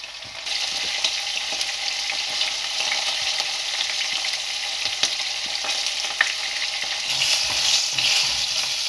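Kofta balls fry in hot oil in a pan, a continuous close sizzle with occasional stirring scrapes and pops, growing slightly louder toward the end.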